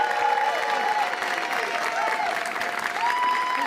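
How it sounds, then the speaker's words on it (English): A studio audience claps in a sustained burst of applause welcoming a guest to the stage, with a few bright tonal sounds ringing over the dense clapping. "Let's give him a big round of applause."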